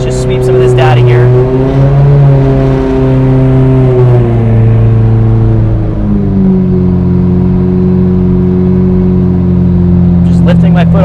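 A Mitsubishi 2G Eclipse engine hums loudly under throttle while being tuned, its drone climbing and then settling as the load changes, with a voice talking over it.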